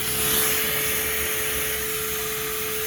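Steady, close whine and rushing airflow from a Ridgid HD0918 dual 18-volt cordless vacuum cleaning a car's mats, holding at an even level with a constant hum and no voices.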